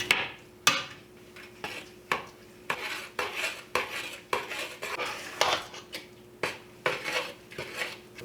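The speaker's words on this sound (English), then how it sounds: "now we'll add in our sugar and spice mixture and just give this a good stir." A big spoon stirs a sugar and spice mixture into apple cider vinegar for chili sauce, giving repeated sharp clinks and scrapes against the bowl in an uneven rhythm, close and fairly loud, with no talking.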